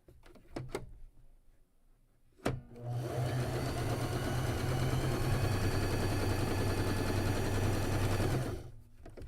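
A sewing machine chain-pieces fabric for a Shoofly quilt block, running in a steady, loud, rapid mechanical rattle for several seconds after a few clicks and taps, then stopping.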